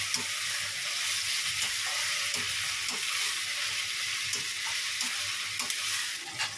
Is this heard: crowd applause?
no